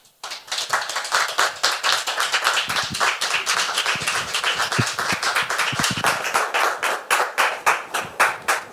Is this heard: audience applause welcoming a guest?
yes